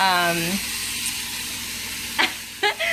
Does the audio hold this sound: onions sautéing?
yes